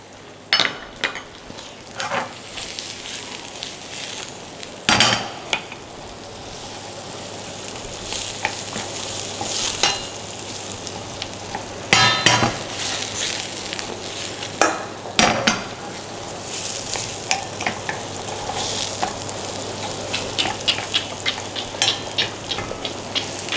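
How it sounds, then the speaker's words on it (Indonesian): Onion and garlic sizzle steadily in a hot pan, a continuous crackling fry broken by a few sharp clinks of a utensil against the pan as they are stirred; no voices. "Kita tumis dulu bombay."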